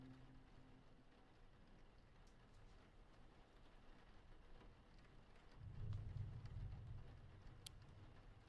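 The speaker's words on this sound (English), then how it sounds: "Oh, that was the thunder." A low rumble of thunder rolls in partway through, swelling over steady rain in a horror video game, then fading back into the downpour.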